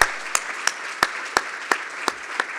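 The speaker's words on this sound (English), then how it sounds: "one more round of applause for the lightning presenters" Audience applause for lightning presenters at a digital preservation conference, a steady close patter of many hands clapping, alone without speech, with a few sharper individual claps standing out at regular beats.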